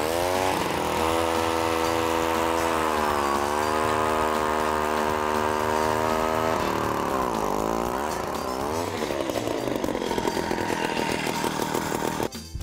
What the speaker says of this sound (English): today we're going to use a power auger